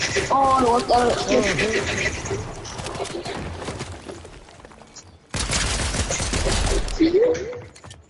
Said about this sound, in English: That was a pistol